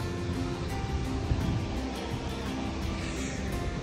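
Snoqualmie Falls pouring at moderate flow, a steady broadband roar of rushing, crashing water heard from nearby, continuous and even throughout with no voices over it.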